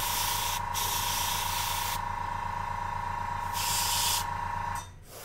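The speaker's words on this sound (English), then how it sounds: "So we're just trying to spray the underparts." Airbrush or spray can hissing steadily while undercoating the underside of a large Wizkids Gargantuan White Dragon miniature on a big base, broadband spray bursts over a constant hum, cutting off near the end.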